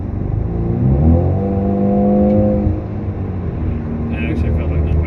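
A four-cylinder turbo Camaro running on E85 at high boost drives along, its engine drone swelling and rising in pitch before settling into a steady hum, with people talking over it inside the car.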